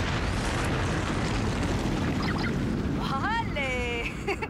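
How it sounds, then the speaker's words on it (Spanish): A wall blown apart by an explosive detonation in the video game Star Wars Outlaws: a loud, sustained rumbling blast with crumbling debris that fades, while a voice speaks briefly near the end. "Ha sido una buena explosión"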